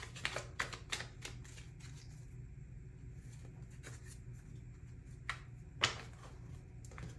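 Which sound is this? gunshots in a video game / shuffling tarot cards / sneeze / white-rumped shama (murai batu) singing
shuffling tarot cards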